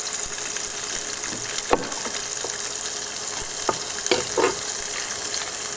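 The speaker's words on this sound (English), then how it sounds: "Hear that sizzle? That's a good thing." Sliced vegetables, including green pepper, sizzle and crackle in a hot frying pan, with a steady hiss and occasional sharp pops from close by, and no voices.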